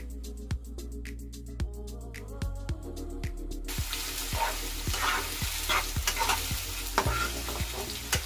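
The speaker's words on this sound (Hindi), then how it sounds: "उसी ऑयल में हमें अनियन और ग्रीन चिली ऐड करना है।" Onion and green chili frying in hot oil for lemon rice, a steady sizzle with repeated spoon stirring knocks against the pan, the sizzle swelling louder after a few seconds.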